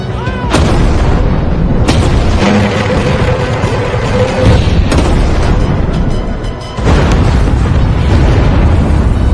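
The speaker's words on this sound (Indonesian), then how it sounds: "Diawali dengan tembakan artileri yang bertubi-tubi menghujani tanah Soviet" Heavy World War II artillery barrage on Soviet ground: continuous booming explosions and rumbling blasts, loud and dense, with sharper hits every couple of seconds.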